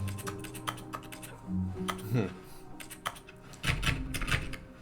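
Keyboard-like tapping from the Stanley Parable video game: quick bursts of clicky keystrokes in irregular clusters, moderately loud, with some soft background sounds between them.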